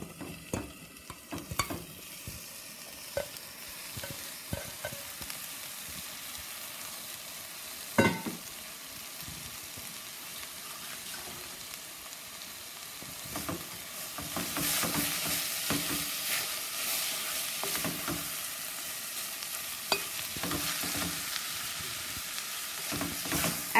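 Meat and chouriço sausage frying in a pan, a steady soft sizzle with occasional stirring scrapes and clinks, growing a little louder partway through; no talking.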